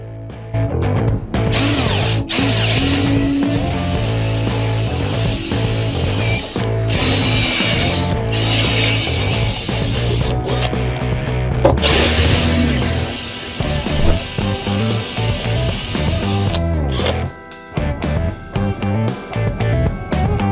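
A power drill bores holes through a car's body panel to mount a large rear wing spoiler on an XK. It whines loudly and steadily for long stretches, with brief stops and restarts.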